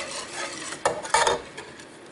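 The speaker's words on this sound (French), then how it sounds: "Je blanchis mes œufs entiers avec le sucre. On fouette." Whole eggs being whisked with sugar in a bowl for pastry cream: a wire whisk scrapes and taps against the bowl in quick, uneven strokes, close up and without voices.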